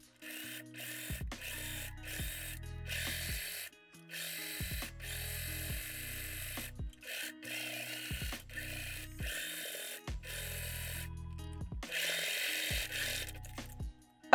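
A sewing machine stitches a corset seam in bursts of rapid mechanical whirring, starting and stopping repeatedly with short pauses in between, close and clear with no voices.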